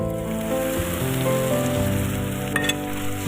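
A paste of tomato, garlic, ginger and green chili hits hot oil in a pan and sizzles loudly and steadily, a close, constant frying hiss with faint stirring clatter.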